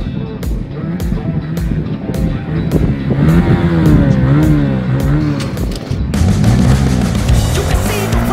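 Honda Winner X motorcycle engine revving hard at high RPM, a loud, rising and falling drone that runs without a break, close up, with no talking.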